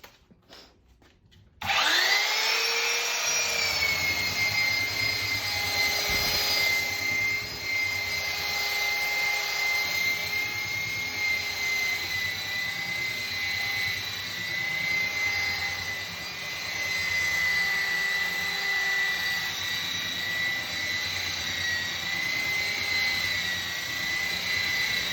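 A loud belt sander nicknamed Bertha whines steadily while sanding furniture. It starts abruptly after a brief quiet moment and runs continuously and close, with a sustained high-pitched tone.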